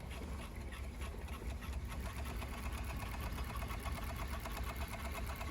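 Overlock sewing machine stitching along a fabric edge, a fast even mechanical whir with rapid rhythmic ticking, running steadily and alone at moderate volume.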